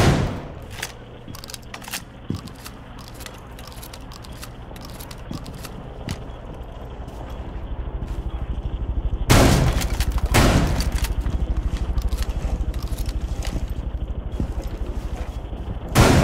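Shotgun blasts in a Rainbow Six Siege match, a handful of loud sharp bangs scattered through the clip, with two heavy booms near the middle over quiet indoor ambience and faint footsteps.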